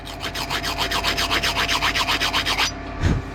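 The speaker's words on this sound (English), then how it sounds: "I'm just going to use a flat rasp like this and take that edge off" A flat rasp files the edge off a piece of cut stone in quick, even back-and-forth strokes, a close rhythmic scraping of roughly a dozen and a half rasps that stops, followed by a single soft thud.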